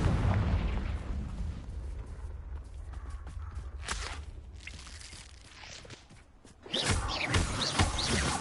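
Confringo blasting spell in Hogwarts Legacy, an opening booming blast with rumbling debris, a couple of sharper bursts in the middle and another loud explosion near the end, fairly close.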